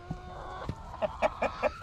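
A rooster makes a run of short, rhythmic clucking calls, about five in a row, fairly close over a faint background.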